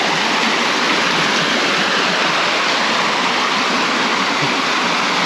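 Steady, loud rush of flowing water along a mountain trekking trail at Azhagar Malai near Madurai, a continuous broadband roar like a stream or small waterfall filling the whole stretch with no break.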